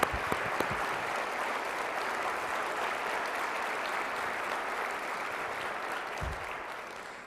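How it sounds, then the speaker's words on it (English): Warm, steady audience applause at an awards banquet, a dense wash of clapping holding at even loudness throughout, with no voices over it. "we're going to give you a round of applause as you come up."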